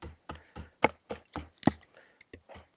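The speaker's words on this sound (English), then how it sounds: "as you can see, it's chopping really well." A Brute Force Bladeworks bushcraft knife chops into wood in a quick series of about ten sharp, close knocks, uneven in strength, with no talk over them.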